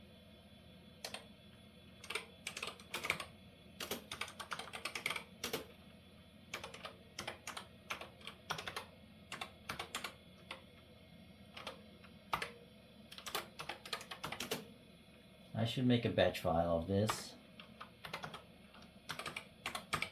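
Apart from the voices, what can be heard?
typing commands on a computer keyboard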